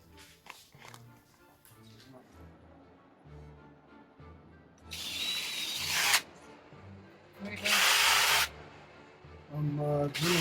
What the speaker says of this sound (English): I'm drilling holes for the scales.